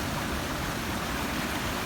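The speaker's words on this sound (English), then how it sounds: "there's the river in the background" A river near an Alpine sawmill in the Val di Rabbi rushes continuously, an even, broad roar with no voices.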